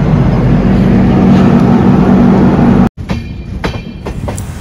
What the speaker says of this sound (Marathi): सिग्नल पडताच ट्रेन परत सुरू झाली.